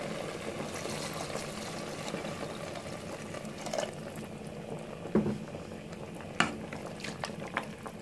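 Water added to a pot of wheat soup with kidney simmering in it makes a steady bubbling, boiling wash at moderate level, with a few sharper splashes and clinks near the end and no voices.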